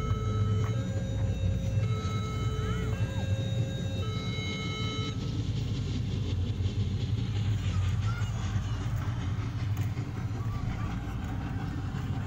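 A miniature amusement train at a children's attraction gives a steady rumbling ride with continuous low mechanical noise, while tonal music and chatter fade in and out.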